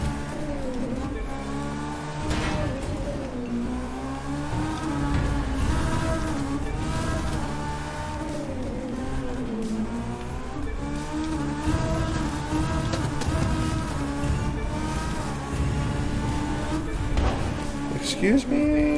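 Game car engine in a driving race in The Crew 2, revving and surging back up to speed with a nitrous boost, its rising and falling tones steady and loud throughout over near-constant talk.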